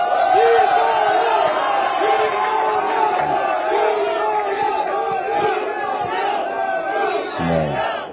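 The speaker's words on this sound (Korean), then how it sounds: "응원의 박수 한번 부탁드립니다." An audience at a youth transit pass meeting cheers loudly, a dense crowd of shouting and whooping voices with some clapping, sustained and close throughout.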